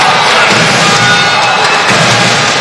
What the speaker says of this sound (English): you can hear the crowd are really starting to get excited